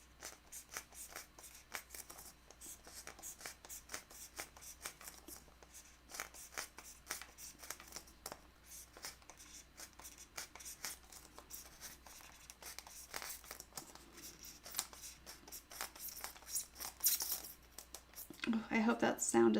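Repeated crisp, squeaky snipping and rustling clicks of cutting while making a no-sew ornament, fairly faint and steady, with a few louder crinkles near the end and a voice speaking quietly underneath.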